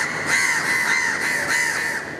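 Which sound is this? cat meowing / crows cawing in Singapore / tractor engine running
crows cawing in Singapore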